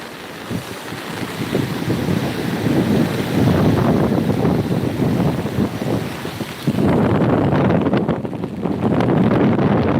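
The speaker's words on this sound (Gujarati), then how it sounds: "પવને બહુ જોરદાર ચાલી રહ્યું છે પાણી પણ બહુ ચાલી રહ્યું છે" Strong wind buffets the microphone in a constant roar on the Banas River at Abiyana, with rushing river water churning underneath throughout.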